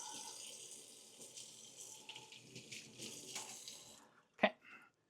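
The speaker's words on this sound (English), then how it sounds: "Give it a good rinse." Tap water gushes steadily for about four seconds as a scrubbed filter part from an OASE BioMaster Thermo 850 pond filter is rinsed, close and moderately loud, then cuts off and is followed by a brief clatter.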